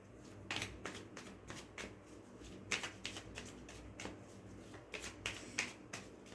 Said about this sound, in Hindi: I need one more card from this deck